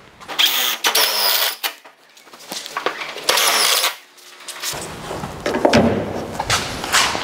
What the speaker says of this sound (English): I'm going to whack a couple of screws in it.